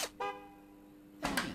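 Two short car horn honks in the video game Gas Station Simulator, separated by a pause, slightly muffled and synthetic-sounding, with a faint low hum beneath.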